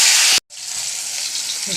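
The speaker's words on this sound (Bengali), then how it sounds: "ভাজা হচ্ছে তখন।" Cauliflower pieces fry in a pan with a loud, steady sizzle that cuts out briefly before resuming, continuous broadband crackle throughout.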